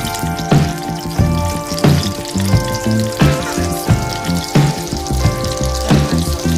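Four tablespoons of unsalted butter sizzle and crackle in a hot pan, loud and close, with regular bursts of spattering roughly every half second and no voices.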